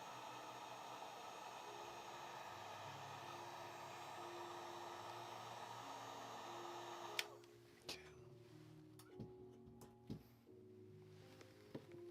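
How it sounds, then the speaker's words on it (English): A heat gun runs with a steady loud airy roar for about seven seconds while working on a vinyl model kit, then cuts off, leaving faint scattered clicks and handling knocks. "Make sure you're not aiming the heat gun directly at your bare hands."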